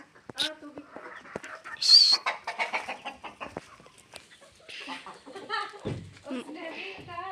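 Backyard chicken in a village farmyard in Pakistan clucking in short repeated bursts close by, interspersed with someone speaking to it, plus scattered other bird calls and light handling noises.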